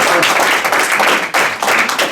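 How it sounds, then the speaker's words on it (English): An audience at a banking seminar breaks into applause, a short, loud burst of many hands clapping close by, with a brief dip partway through before the clapping swells again. "Clap for yourself, black people"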